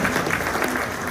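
An audience applauds a local accounting firm, Pick Barnes Accounting, at a city breakfast event; dense, steady clapping from a crowd fills the whole moment without a break.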